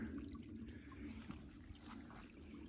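A small trickle of water on a hiking trail near Fontana Dam, North Carolina, gives a faint, soft, continuous babble with light splashy flickers against quiet woodland background.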